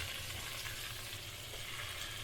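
Onion sizzles with salt in hot oil for a crab biryani, a steady soft frying hiss with faint stirring, quiet and continuous.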